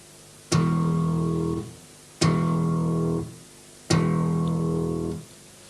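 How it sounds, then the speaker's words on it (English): Three slap bass thumb strikes in a funk style, evenly spaced, each a sharp percussive click followed by a clear, bell-like ringing tone that sustains for about a second before fading, played alone. "You should hear a click followed by a clear bell-like tone."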